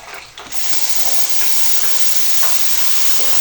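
Cold water hitting a hot, oil-fried crypto hardware kit, a sudden hissing sizzle that flares after a brief pause and holds steady and loud for several seconds.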